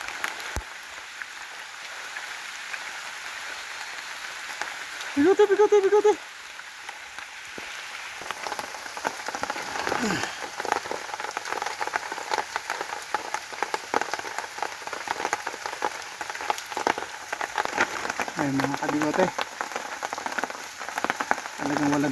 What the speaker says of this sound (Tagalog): talagang walang tigil ang ulan dito sa amin.